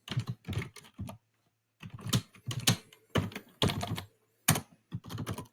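Quick bursts of typing on a computer keyboard, clustered keystrokes separated by short pauses, close and fairly quiet in a calm room with no talking.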